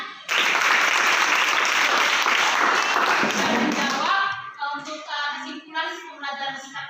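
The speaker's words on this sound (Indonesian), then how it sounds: "Tepuk tangan." A classroom of students bursts into loud, dense applause during an Indonesian lesson on human digestive organs, clapping steadily for about four seconds before it stops abruptly and a teacher's voice takes over.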